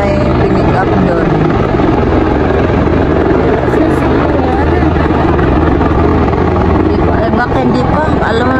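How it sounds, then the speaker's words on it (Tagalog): A loud, steady rotor and engine roar from a helicopter fills the whole span close by, on a mountainside above an accident scene, with people talking under the noise. "yung helicopter may pinick up doon."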